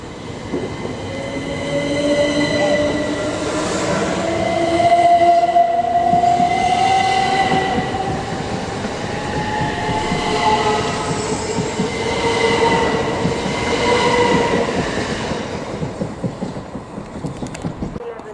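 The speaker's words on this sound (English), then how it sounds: "This train is formed of 8 coaches." An 8-coach train at Swanley station rumbles through with rising and falling wheel and motor tones, squealing rail hum and mechanical clatter building across a long, steady pass.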